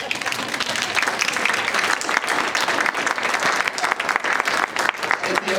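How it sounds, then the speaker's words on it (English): An audience applauds after a talk on the Berlin Airlift, a loud, continuous wash of many hands clapping that lasts throughout. "you could applaud"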